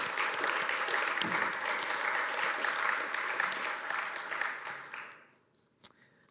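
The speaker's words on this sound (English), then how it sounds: "round of applause for our team" An audience applauds an IT team at a tech talk, a dense sustained clapping that holds steady for several seconds, then thins and fades out, followed by a single sharp click.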